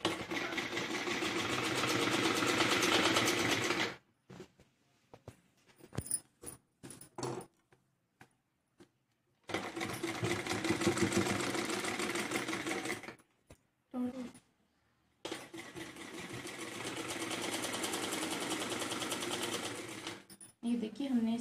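A sewing machine stitches a frill onto a blouse neckline in three long, loud, steady runs close by, separated by quiet pauses with brief handling noises and some speech.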